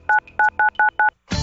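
Telephone keypad dialing tones in a law office radio advertisement: five crisp, evenly spaced beeps in quick succession, loud and clean, followed by the start of another sound.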